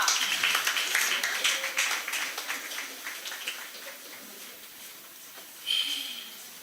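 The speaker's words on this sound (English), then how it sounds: "Let's clap her." An audience at an international spelling bee claps for a contestant: dense, scattered handclaps that are loudest at the start, thin out gradually, and end with a brief bright flare.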